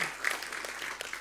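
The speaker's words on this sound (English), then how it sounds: "Let's give him an applause." A short burst of clapping from a small panel discussion audience, steady and fairly close, with no voices over it.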